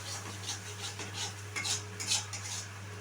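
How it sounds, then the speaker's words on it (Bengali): A spoon works masala spices into hot oil in a pan, a quiet series of light metallic scrapes and taps against the cookware over a faint low hum. "এই মশলাটা তেলের মধ্যে খুব ভালোভাবে আমি মিশিয়ে নিচ্ছি"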